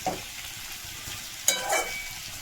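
Potatoes fry in a pan with green chilli, giving a steady close sizzle and hiss throughout, with a brief louder scrape and crackle of stirring about halfway through.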